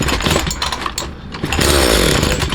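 A Husqvarna 340e chainsaw engine sputters and catches while starting, loud and close, its uneven firing giving way to a rougher, steadier running buzz.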